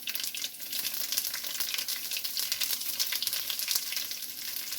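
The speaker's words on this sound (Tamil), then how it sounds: "இப்போ கடுகு போட்டுக்கலாம்" Mustard seeds crackle and sizzle in hot oil, tempering for South Indian tamarind rice (puliyotharai). The close, dense popping hiss continues without a break and sounds alone.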